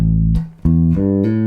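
Funky electric bass line played alone and up close: a long held low note, then a short gap and several plucked notes with clear attacks, steady and loud.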